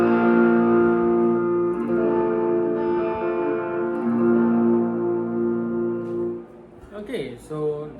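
An electric guitar on a Sterling StingRay rings through a distortion effect, a sustained chord ringing with heavy harmonics and slowly decaying, then a few quick picked notes near the end.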